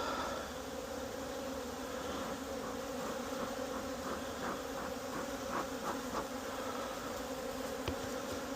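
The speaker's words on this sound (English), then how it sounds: "Lots of bees." A dense, steady hum of many honeybees buzzing close by around an open hive, a constant droning swarm with no voices.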